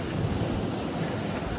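Surf washes in at Crystal Beach on Nusa Penida, a dense continuous roar of waves mixed with gusting wind buffeting the microphone.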